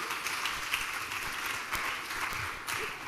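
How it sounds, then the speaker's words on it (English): An audience at a debate event applauds a speaker, dense steady clapping from a crowd of moderate loudness, continuous throughout with no talk over it. "Another round of applause for him."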